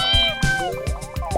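Several short cat meows in quick succession from the Xbox Live indie game Demo Friend, repeated pitched calls over a steady game soundtrack.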